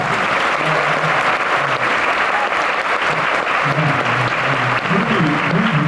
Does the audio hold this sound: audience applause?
yes